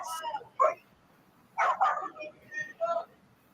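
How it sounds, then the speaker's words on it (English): Dogs bark in short, scattered bursts outside a house during a police call to the door in Laurel County, Kentucky, moderately loud and somewhat distant, mixed with yips. "They're heard again over the sound of barking dogs."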